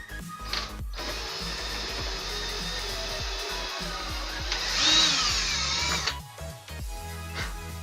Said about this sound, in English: now let's start drilling the holes for the screw